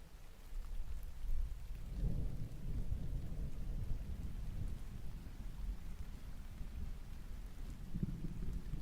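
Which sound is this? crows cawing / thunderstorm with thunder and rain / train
thunderstorm with thunder and rain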